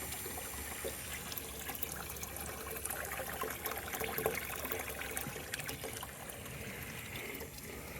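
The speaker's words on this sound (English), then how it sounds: "we're just pumping the water out" A pump drains water out of a houseboat in very low water, giving a steady close trickling, splashing flow of water with a faint underlying hum and no talk.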